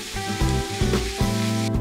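Minced meat frying in a pan for a meat and vegetable pie filling, a steady close sizzle running throughout with a low, even hiss.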